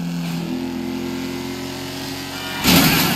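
Car engine in Grand Theft Auto 5 running steadily with a low droning hum, then swelling louder near the end as it revs.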